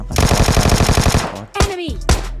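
Loud, rapid automatic gunfire in PUBG Mobile Lite, a fast even string of close shots followed after a short break by a few more single bursts.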